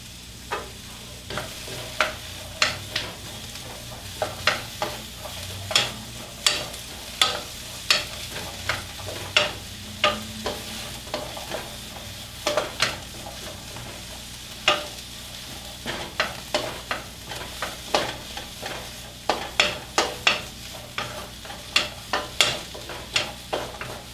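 Broccoli and pepper stir-fry in a pan for a vegan peanut butter stir fry, with a rhythmic series of scraping, tossing strokes over a continuous close sizzle and no voices.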